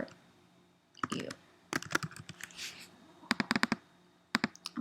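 Close, crisp computer keyboard and mouse clicks come in short, irregular bursts over a quiet room, with pauses between the clusters.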